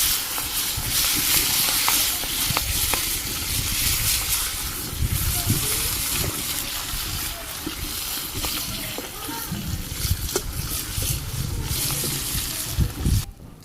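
Oil sizzles and spatters steadily as fish fries in a pan over a clay stove on a rooftop, with occasional clinks and scrapes of a utensil and some background noise.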